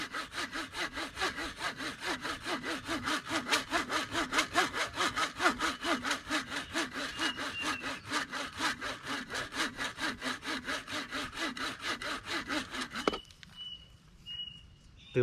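A hand saw with a dull blade cuts through the hard woody stem of a tree rose, a steady run of rapid back-and-forth strokes that stops near the end. A brief faint rustle follows.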